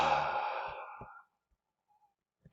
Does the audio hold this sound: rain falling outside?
no